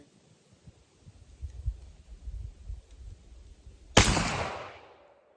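A muzzleloader rifle fires a single sharp, loud shot near the end, its blast tailing off over about a second. Quiet low rumbles and handling noises come before it.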